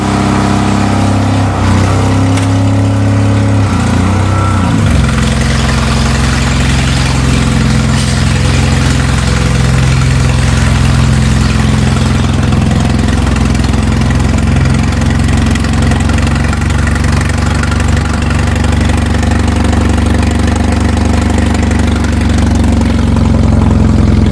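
Toyota truck engine running steadily at idle, a loud, close, continuous low rumble that holds without break, with a brief shift in tone early on.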